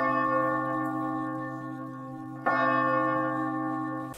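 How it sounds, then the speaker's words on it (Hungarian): Church bell tolling in a Hungarian song, sustained resonant strokes ringing over the music, with a fresh loud strike about halfway through that decays slowly. "nekem a kedvencem ez a harangkongatás"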